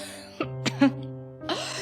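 A person gives a few short, strained coughs and throat-clearing sounds, close and fairly soft, separated by brief pauses.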